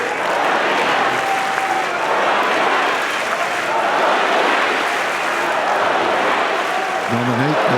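A big tennis crowd at the Roland-Garros men's final keeps up sustained applause and rumbling cheers throughout, with a steady massed roar and faint voices in the background.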